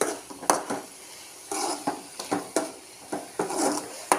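A utensil stirs a jackfruit seed stir-fry with coconut in a pan, giving close, irregular scrapes and clinks against the pan in quick bursts, with a faint sizzle underneath.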